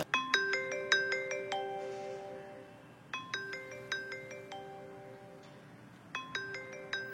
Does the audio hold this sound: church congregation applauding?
no